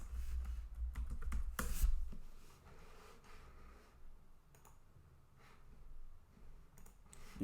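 Quiet, rapid clicking of computer keys as a web address is typed, a short burst of keystrokes at the start and then sparse, faint taps.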